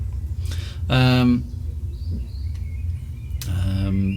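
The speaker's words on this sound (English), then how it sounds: "The space birds get quite noisy at this time of night." Noisy pet birds, kept as so-called space birds, calling at night indoors, with two loud harmonic squawks and scattered chirps over a constant low hum.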